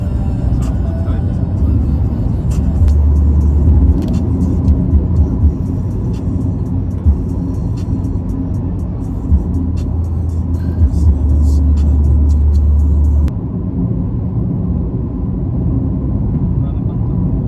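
Car on a long drive in La Union, a steady low engine and road rumble heard from inside the cabin, continuous throughout and dropping slightly near the end.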